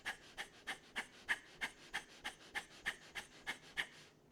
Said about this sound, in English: And exhale the breath out all the way.